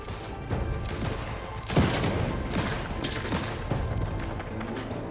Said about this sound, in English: So what are y'all shooting at?